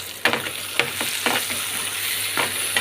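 A tomato, carrot, onion and spinach upma mixture is stirred in a hot pan, with several sharp scrapes and knocks of the spoon over a steady soft sizzle.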